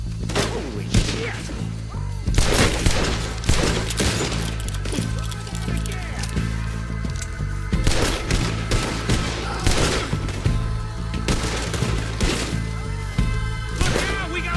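Repeated gunfire in Red Dead Redemption 2 during a shootout with raiders, loud sharp shots cracking in irregular bursts throughout over a steady background, with voices shouting between them.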